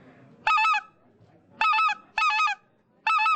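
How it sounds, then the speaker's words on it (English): A white-fronted goose call blown by a person at a snow goose festival, giving four loud, reedy honking bursts, each about a quarter second long, with short quiet gaps between them. "This is actually a white front call, which can kind of do a snow goose call."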